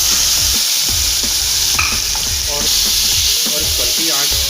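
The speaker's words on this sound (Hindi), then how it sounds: "अब इसके अंदर हम ऐड कर देंगे चिकन" Chicken pieces fry with browned garlic in a hot pan, a constant loud sizzle broken by the clatter and scrape of stirring, with no voices.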